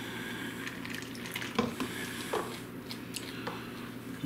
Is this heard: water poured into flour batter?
yes